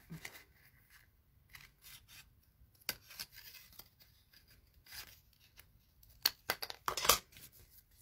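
Scissors cut out a paper gift card with scattered close, quiet snips and rustles, building into a quick cluster of sharper cuts near the end, with no talk.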